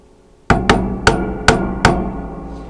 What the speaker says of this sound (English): I'm stuck using this tiny little 1/4-inch chisel pretty inefficiently to clear out all this waste